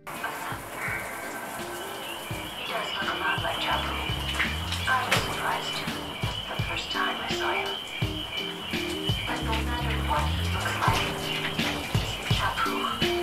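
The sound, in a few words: shower running water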